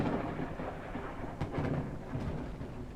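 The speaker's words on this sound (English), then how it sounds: "that's how loud the lightning is." A thunderstorm rumbles in the video game Forever Skies: dense, loud low thunder with rain-like hiss throughout and a few sharper cracks, no talking.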